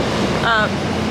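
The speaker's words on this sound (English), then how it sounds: "Alright, that's the sound of the metro." Steady rumbling roar of a Seoul metro train in motion, loud and continuous, with a short high whine rising briefly midway.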